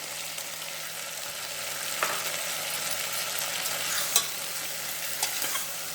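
Tomatoes sizzle steadily in hot oil while cooking sundakkai dal, with a few brief scraping stirs of a utensil against the pan.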